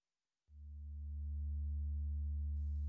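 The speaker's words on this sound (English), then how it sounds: "So here we have it self-oscillating." A FAFF multimode synth filter self-oscillating, producing a steady pure low tone that starts abruptly and swells slightly, holding alone with a faint hiss appearing near the end.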